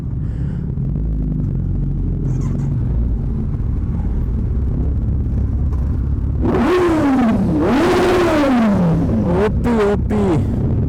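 A superbike engine, the G900, revs loudly and close in two or three rising-and-falling sweeps after a low idle rumble, ending in sharp throttle blips.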